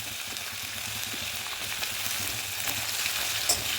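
Chopped garlic hitting hot oil already tempered with whole cumin, dry red chili and bay leaf, giving a steady close sizzle with faint crackles and no voices.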